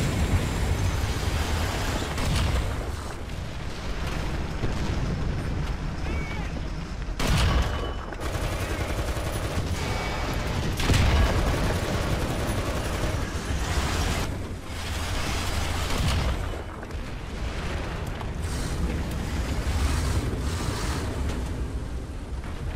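Artillery fire in War Thunder, heard as dull, rumbling booms and a few sharper distant blasts over a constant wind-like roar that runs the whole time.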